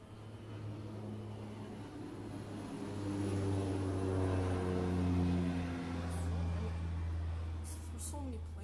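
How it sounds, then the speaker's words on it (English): Airplanes flying overhead produce a low, humming engine drone that rises to a peak mid-clip and then fades slightly as it passes. The sound is distant and moderately quiet. "So many planes today."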